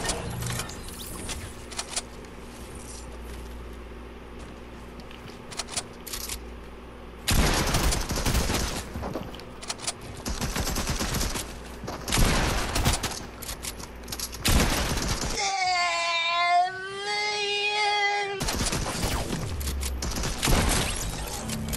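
Bursts of rapid gunfire and shots crack through Fortnite play on a console, loud and repeated in clusters, with a short warbling electronic tone partway through.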